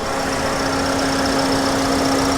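A 2019 Toyota Vios 1.5-litre Dual VVT-i engine runs at a steady idle, an even mechanical drone with a faint hum, close by and without speech.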